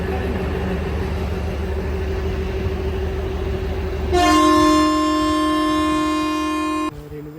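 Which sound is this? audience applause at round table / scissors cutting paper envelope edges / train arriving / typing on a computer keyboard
train arriving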